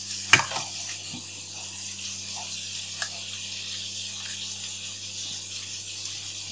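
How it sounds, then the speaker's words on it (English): Asparagus fries in olive oil and salt, a soft steady hiss and crackle running throughout at low level, with a sharp clatter near the start. "asparagus is just frying in some olive oil and salt."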